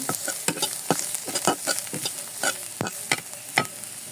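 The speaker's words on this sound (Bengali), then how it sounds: "আমার পেঁয়াজ মরিচ ভাজা হয়ে গেছে" Chopped onion and chili with a little turmeric frying in a pan while being stirred, with sharp scraping and clacking strokes of the spoon at an irregular rhythm over a steady sizzle. No voices.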